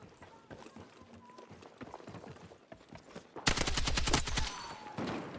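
An M240L machine gun in Battlefield 6 rips off a loud, sustained burst of rapid shots, following a stretch of quick running footsteps and scattered distant gunfire.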